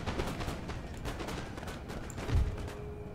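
Rapid, ragged crackle of musket volley fire in Empire Total War as troops fire from walls, a continuous stream of overlapping shots with a heavier thump near the end.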